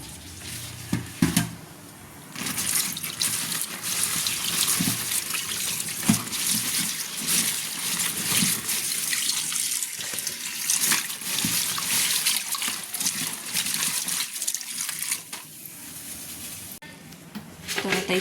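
Leaves rinsed under a running kitchen tap, a steady splashing rush of water that carries on for a long stretch, with a voice talking over it now and then.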